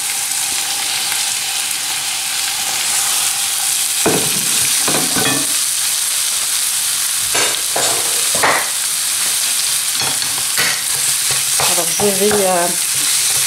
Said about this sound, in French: mélanger avec ma spatule en bois pour pouvoir réduire la viande hachée en petits morceaux et éviter d'avoir des paquets